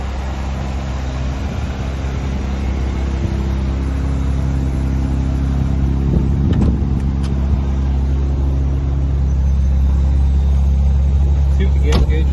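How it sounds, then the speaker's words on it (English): A 1967 Austin Healey 3000 classic car on the move, steady low engine rumble and road drone heard from inside the cabin, continuous and fairly loud with a few brief knocks. "We're going to go for a ride in the Austin Healey 3000 from 1967"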